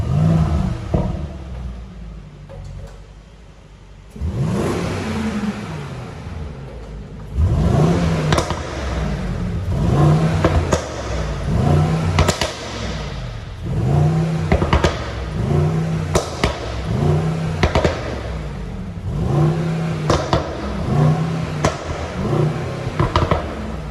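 A Mercedes-AMG GLE 63 S Coupe V8 engine revs repeatedly in Sport Plus mode in sharp bursts with a deep, throaty rumble, each rise falling back to a burbling idle; loud and close, with no talking.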